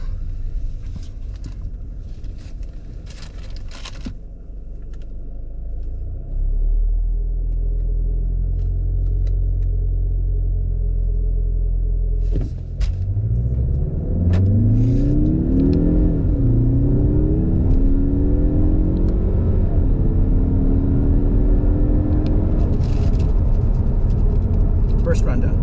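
A 2021 Mazda 3 turbo with 250 hp, running on 91 octane in sport mode with paddle shifters, idles, then surges into hard acceleration, its engine note climbing through several rising sweeps close by.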